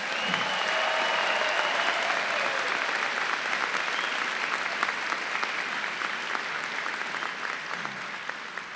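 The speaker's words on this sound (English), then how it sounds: "Would you give them a round of applause?" Sustained applause from a large audience at a 2014 commencement ceremony, an even, dense wash of clapping that holds steady for several seconds, with a few brief cheers within it.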